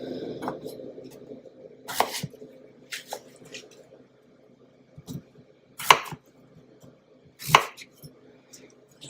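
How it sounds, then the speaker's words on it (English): A knife cuts vegetables for a crockpot beef stew on a board, giving a handful of separate chops and soft squishy slices spaced irregularly, fairly close, with quiet handling noise between them. "I'm going to cut these a little smaller because they'll hold up better as we cook them in the"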